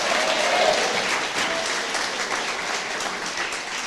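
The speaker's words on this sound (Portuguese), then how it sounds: "Pode dar salva de palmas ao Senhor." A church congregation at a pastors' gathering applauds loudly and continuously, a thick, even roar of clapping that tapers slightly toward the end, with no clear speech over it.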